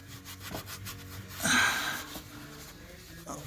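A scraper rasps old gasket seal off the oil pan of a 2002 Mitsubishi Pajero 3.5 GDI, a short, close scratchy stroke that swells for about half a second over low background rubbing.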